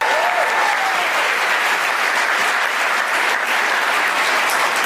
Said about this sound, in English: the way she paused and waited for them to applaud her for that